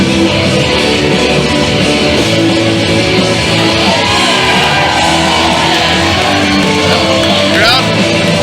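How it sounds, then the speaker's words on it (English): A wrestling crowd at a CWF Eternal show roars and chants 'Omega' in a dense, loud, sustained wall of shouting voices that fills the venue without a break. "Bible Club starting an Omega chant"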